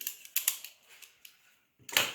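Cardboard strips 4.5 cm deep being cut for a waterproof fire box, heard as a few sharp, close snipping and slicing clicks spaced irregularly, a short pause, then a louder rasping cut at the end.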